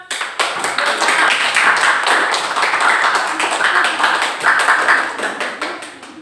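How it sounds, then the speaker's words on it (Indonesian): A small group, likely a classroom, claps together in quick, dense applause that lasts several seconds before tapering off. "Kasih aplaus dong"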